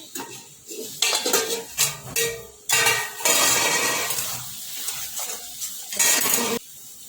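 A spoon scrapes and clatters in a pan as a tomato and moong dal pulao mixture roasts, with irregular metallic stirring strokes over a faint sizzle.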